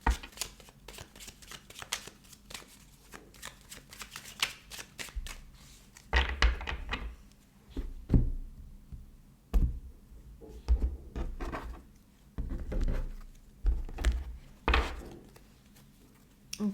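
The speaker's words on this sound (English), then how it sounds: "All right, I'm going to shuffle the cards." Tarot cards shuffled by hand in a long run of crisp riffling and soft slaps, fairly close and steady, with louder bursts of bridging and tapping toward the end and no talking.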